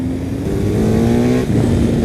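A BMW R 1250 GS Adventure motorcycle engine pulls hard under acceleration, a loud, close, rising drone that climbs steadily in pitch as the bike gathers speed.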